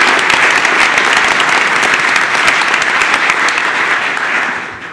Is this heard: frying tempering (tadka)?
no